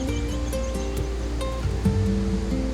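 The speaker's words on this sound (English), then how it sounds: "Here is the massive and one of the highest waterfalls of India, the famous Nohsngithiang Falls, dropping a staggering 340 meters." Nohsngithiang Falls, a 340-metre waterfall in Meghalaya, India, roaring as a steady broadband wash of falling water, continuous and fairly distant, with no voices.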